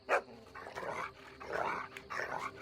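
A dog barks several times in quick, irregular bursts, fairly close, with a rough growly edge between barks.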